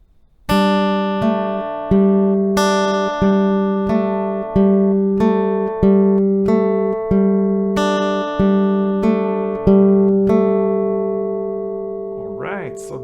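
Acoustic guitar plays the F section slowly, with both first and second parts together: a steady string of clear plucked notes, each ringing and decaying before the next, close and alone with no talking.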